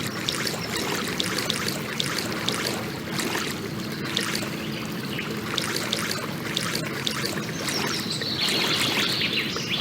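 Continuous rushing river rapids in a canoe video game, a steady wash of flowing water with small splashy flickers, fairly soft and even throughout with no talk.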